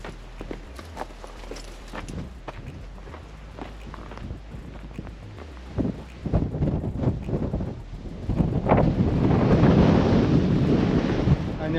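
Wind blows across the hilltop at Rajmachi Fort in the Sahyadri hills and buffets the microphone in rough gusts that build louder toward the end. Footsteps crunch underneath, and no one speaks.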